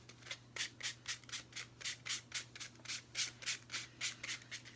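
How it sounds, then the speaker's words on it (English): Rhythmic dry scuffing of a primitive candy corn craft piece, about a dozen quick, evenly spaced rubbing strokes close up over a low steady hum, with no voices. "But I'm going to add just a little bit more scuff to it."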